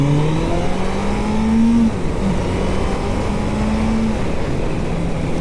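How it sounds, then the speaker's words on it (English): A Honda motorcycle accelerates on the road, its engine and induction note rising in pitch through the gears as a steady, close drone mixed with wind and road noise. "You can hear that induction sound a little bit."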